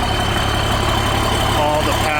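A John Deere 4055 diesel tractor with a straight pipe idles steadily at close range, a constant low rumble with no change in pace, while a person talks over it.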